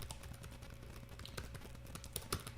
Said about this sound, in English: Let me just do a little typing.